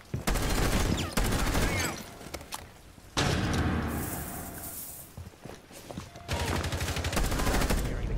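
Dense bursts of automatic gunfire in the Rainbow Six Siege video game, loud and close, with heavy volleys broken by a brief quieter stretch of softer shots and movement before firing resumes.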